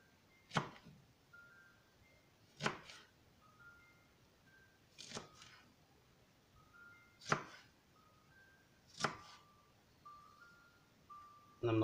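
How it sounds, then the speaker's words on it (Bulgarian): A knife slices through leek on a cutting board in five crisp, evenly spaced cuts about two seconds apart, close and clear over faint background tones. "Сега ще нарежа този прас лук."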